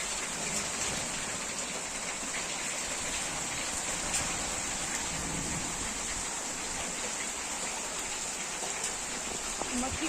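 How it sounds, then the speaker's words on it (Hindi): Heavy rain falls in a dense, steady hiss with no pauses, close and even throughout, with a faint patter of drops on surfaces. "अब आई तेज बारिश।"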